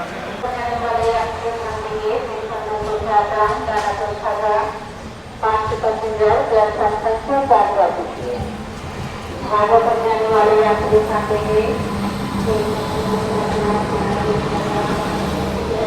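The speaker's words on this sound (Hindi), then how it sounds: "अपनी अमृत भारत एक्सप्रेस निकल रही है राजेंद्र नगर रेलवे स्टेशन से" An Amrit Bharat Express train pulls out of Rajendra Nagar railway station about nine minutes late, its rumble and rolling noise running steadily beneath near, continuous talk.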